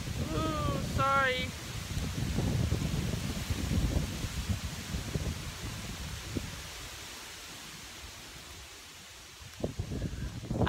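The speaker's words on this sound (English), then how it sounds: "that was a really strong gust of wind" Strong outdoor wind buffets the microphone in heavy, rumbling gusts that swell and ease throughout, with a brief higher vocal sound near the start and a few sharp knocks toward the end.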